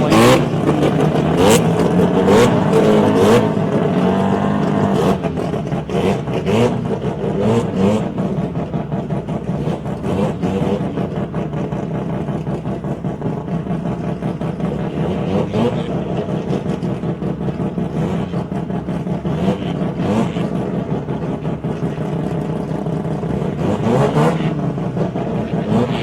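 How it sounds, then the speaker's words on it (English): Rotary-engined Mazda drag cars at a drag racing nationals, including a 1300 rotary, rev loudly and continuously with rough, crackling bursts as they bounce off the rev limiter, a dense mechanical roar sustained throughout. "Once they get up on those rev limiters, you hear them crackling."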